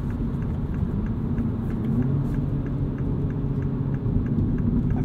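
2022 Mini Cooper S two-door manual hatchback driving, heard from inside as a steady low engine and road rumble at cruising speed, with no voices.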